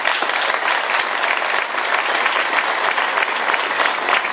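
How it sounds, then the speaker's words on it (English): A large audience bursts into sustained, dense applause for the hotel team at the reopening of Hotel Syracuse as the Marriott Syracuse Downtown, with steady clapping filling the whole stretch. "Big round of applause"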